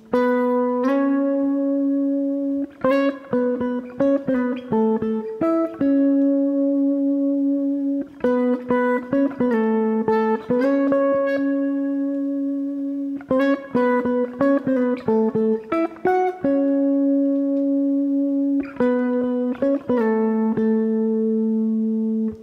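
Electric guitar plays a clean octave riff, a repeating phrase of short picked notes and slides, cycled about four times with no talking.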